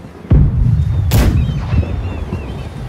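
Pirate-ship cannons fire in a naval video game, two heavy booming shots about a second apart, each trailing into a rumbling roar, with no voices.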